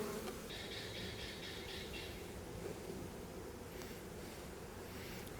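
Package honeybees being shaken into a hive give a steady, close buzzing drone throughout, with a brief higher whine early on and faint handling noise.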